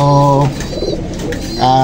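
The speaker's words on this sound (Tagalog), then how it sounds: "So kung mapapansin nyo, ayun po yung ibon, no?" A pigeon or dove coos up close, two loud drawn-out tonal coos at the start and end with a quieter breathy gap between, no talking.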